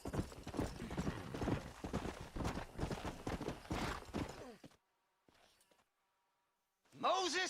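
Horse hooves clip-clop in the Western video game Red Dead Redemption, a close rhythmic trot under game voices, then near silence with faint clatter before a horse whinnies loudly at the end.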